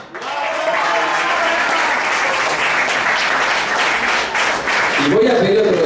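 Concert crowd at a rock show in Tucumán applauding the bass player, a dense, loud wash of clapping and cheering sustained for several seconds, with a voice emerging near the end.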